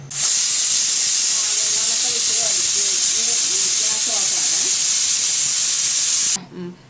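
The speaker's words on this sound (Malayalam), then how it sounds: "അടച്ചു വെച്ച് 3 വിസിലടിക്കട്ടെ" A pressure cooker cooking astram, a Kerala dish, lets out a loud, steady, high steam hiss and whistle for about six seconds before it cuts off abruptly, with someone talking over it.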